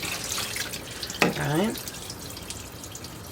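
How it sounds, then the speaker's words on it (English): Warm water poured from a tap over harvested tomato seeds in a sink, a steady running splash with a brief louder gush midway, while a person speaks briefly. "I'm going to add warm water and make sure that I get all the seeds out of there"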